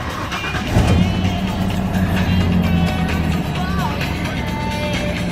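A 1994 Ford F350 4x4 Xtra Cab long bed with a non-turbo 460 engine driving along, a steady low engine drone with cabin rumble and a brief rise in revs, voices talking over it inside the cab.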